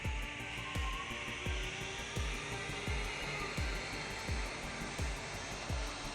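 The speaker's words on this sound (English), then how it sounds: "as the turbine spins into action under power" Rhythmic chuffing beats pulse over a continuous whooshing roar from an LMS Turbomotive steam turbine locomotive model working under power, steady and fairly close.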